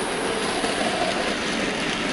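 Dapol LSWR B4 model locomotive hauling a goods train on a layout, giving a steady, close rolling rumble and faint rail clatter that holds evenly throughout without pause.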